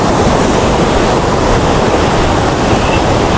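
Thooval waterfall in Idukki, Kerala, flows with a loud, constant broadband roar of rushing water, close and unbroken, with no voices heard.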